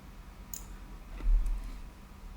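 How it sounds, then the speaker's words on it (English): A computer mouse clicks a couple of times, faint and close, with quiet room noise between the clicks. "Put your mouse on the green line, okay, and click."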